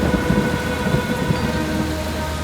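Heavy rain pours steadily with a deep rumble of thunder rolling underneath, a dense continuous storm wash with no voices.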